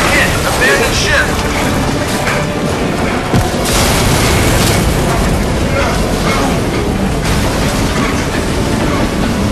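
In the submarine opening of the video game Crysis 2, an explosion hits the hull, producing a loud, continuous rumbling roar with metallic groaning and rattling. Shouting voices are heard throughout the chaos.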